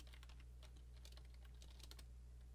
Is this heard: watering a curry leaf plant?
no